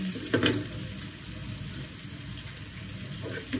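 Onion and garlic frying in a hot wok, a steady faint sizzle with a brief clatter near the start, continuous and without talk.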